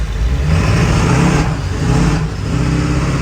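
A minivan engine revving hard as all its wheels spin, a loud, sustained roar that rises and dips in pitch over a few seconds, close and unbroken, with no voices.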